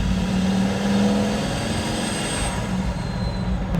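A Pagani Huayra supercar engine accelerating: a steady, loud engine roar with a high turbine-like whine running throughout, sustained without breaks.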